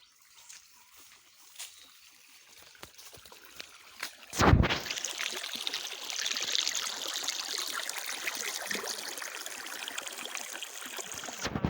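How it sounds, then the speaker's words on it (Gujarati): Pumped irrigation water flows through a farm field. Faint scattered ticks and rustles give way after a sharp thump to a steady, close, babbling rush of running water. "અહીંયા જો પાણી જાય છે।"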